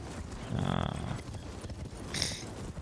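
Horse hooves clop in a short burst while riding across open ground in Elden Ring, moderately close, with a brief brighter clatter near the end and no talk.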